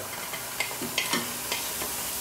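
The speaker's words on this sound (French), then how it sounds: "je vais mélanger et je vais laisser cuire mon herbe" A spoon scrapes and clicks against a pan in a few light strokes while fresh herbs and onions sizzle softly underneath.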